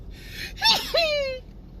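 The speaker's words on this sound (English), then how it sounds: "That's my high sneeze" A single high-pitched sneeze, preceded by a sharp intake of breath, close and fairly loud against a quiet background.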